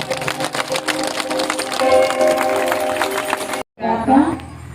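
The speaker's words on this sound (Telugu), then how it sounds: "గట్టిగా చప్పట్లు కొట్టి" A church congregation at a Srikakulam healing and gospel meeting claps together for a few seconds amid crowd noise, followed by a brief silence and a voice speaking.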